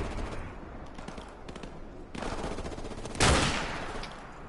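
Gunfire in the PS4 game Call of Duty: Modern Warfare Remastered, crackling in dense, uneven bursts of rapid shots throughout, with a sharper, louder volley near the end.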